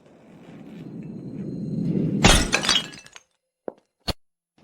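A Sankyu trophy shatters in a villa: a rising whoosh builds into a loud crash of breaking glassy fragments, then silence broken by two sharp clinking pieces falling.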